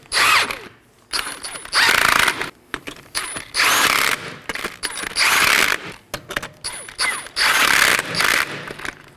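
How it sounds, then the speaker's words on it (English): A ratchet tightens strut bolts on a 2018-2024 Chevrolet Equinox front strut and spring assembly, giving repeated bursts of close, rapid clicking separated by short pauses. "I'm going to tighten these in a crisscross pattern."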